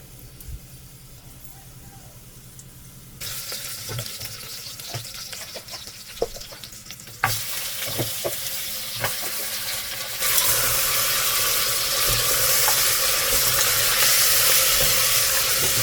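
Onions browning in oil in a pressure cooker, a close steady sizzle that builds in stages to a loud continuous hiss, with occasional clicks and knocks of stirring and kitchen handling mixed in.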